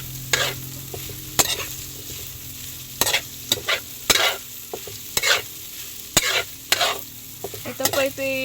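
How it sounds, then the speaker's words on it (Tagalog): Chicken intestines sauté for adobo in a pan, with steady sizzling punctuated by repeated sharp scrapes and clanks of a utensil stirring against the metal, close and fairly loud. "Ginigisa ko na po siya"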